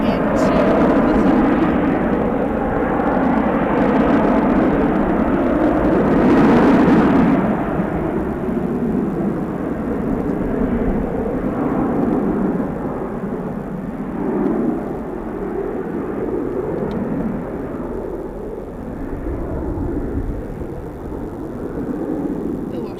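Ryanair airliner departing Manchester Airport, a broad jet rumble that peaks early and slowly fades as it moves off, with a person speaking over it.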